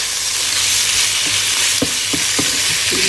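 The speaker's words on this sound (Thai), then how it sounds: "เครื่องแกงกับเครื่องในเข้ากันดีนะผัดไปเรื่อยๆจ้า" Chicken offal is stir-fried with curry paste in a pan, giving a loud, close, steady sizzle with several sharp scrapes and knocks of the spatula toward the end.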